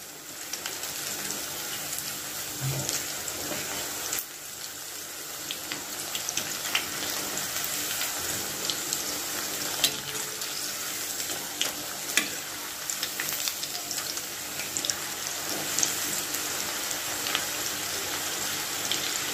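Vermicelli pakoda fries in hot oil with a dense, continuous crackling sizzle that holds steady at moderate loudness, broken by occasional sharper pops.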